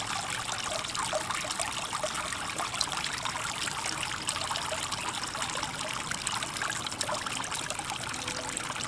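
Water drains steadily from a pool vacuum hose full of holes during a manual pool vacuuming, a continuous close trickling and splashing that holds even in level for the whole stretch, with no voices.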